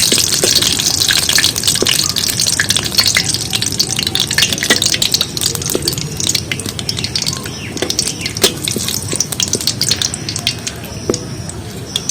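Dried red chillies sizzle in hot white oil in a pan as a tempering for potato curry. The frying is a loud, continuous crackle and hiss heard up close, with small pops scattered through it.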